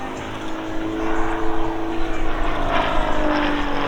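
An RAF Grob Tutor single-propeller trainer flies aerobatics at an airshow, its engine droning loudly and continuously with a rising and falling pitch as it manoeuvres overhead.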